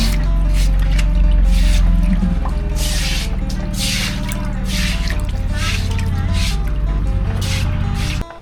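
Water splashes and trickles steadily while frog-breeding tanks are washed out at a rural Thai home, with continuous dripping and pouring close by and occasional voices underneath.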